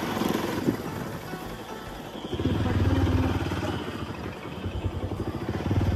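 A motorcycle engine running steadily nearby at Barahatal in Surkhet, a continuous low rumbling drone that swells in loudness midway and carries on without speech.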